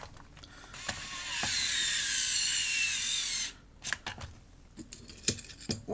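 Screws being driven into a PlayStation case with a power driver, a whirring run of about two seconds followed by scattered clicks and plastic handling taps, close and alone.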